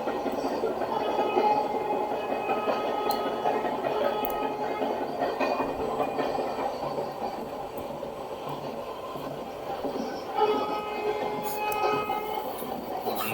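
A passenger train hauled by a WAP-4 electric locomotive runs between Tambaram and Chengalpattu, giving a steady, moderately loud rumble with faint wheel clatter and occasional higher squeals throughout, with no voices.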